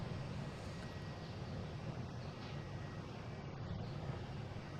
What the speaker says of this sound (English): This Delta taking off will be an indicator of what it looks like for sure.